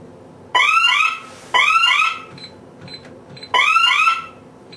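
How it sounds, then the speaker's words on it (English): A DSC security system fire alarm, triggered by smoke detectors, sounds in three loud bursts of rapid, sweeping warbling tones, separated by short pauses with faint beeps between. "If you have a fire alarm caused by your smoke detectors"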